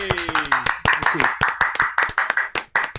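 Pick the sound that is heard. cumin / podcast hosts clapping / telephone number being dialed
podcast hosts clapping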